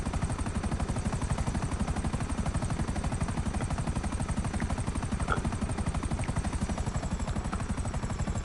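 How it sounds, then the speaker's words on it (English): Rapid, steady rotor chop of the Buzzard attack helicopter in GTA Online, a continuous thudding pulse with a high turbine whine, loud and close throughout. "We have Buzzard, pretty iconic helicopter"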